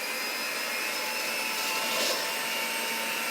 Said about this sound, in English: I start mixing the dressing with a hand mixer